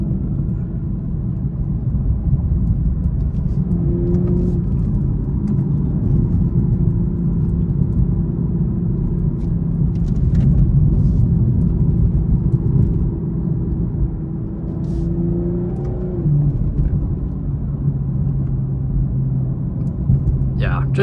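A 2022 BMW M240i in Sport Plus mode drives a twisty road, its engine and exhaust making a steady, loud low rumble throughout, with pitch rising and falling as the revs change.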